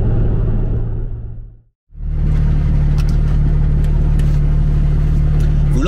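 A Porsche 996 RTS3 engine accelerating in sixth gear at around 140 km/h, heard from inside as a loud, raspy drone that cuts out briefly when the throttle lifts, then surges back strongly.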